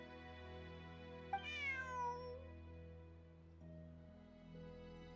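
A cat meows once, a clear rising-and-falling call close by, over a soft sustained musical backdrop in the Genshin Impact video game.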